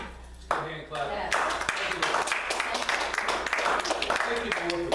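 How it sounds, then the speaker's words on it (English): A church congregation clapping hands during a sermon, steady dense applause from many people under continuing talk and shouts. "Let's give a hand clap."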